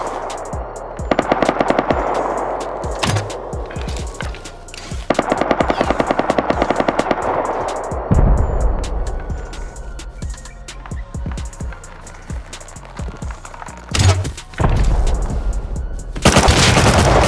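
Rapid bursts of gunfire from the survival video game Rust, loud and close, with dense automatic volleys interrupted by brief pauses and scattered single shots over about seventeen seconds.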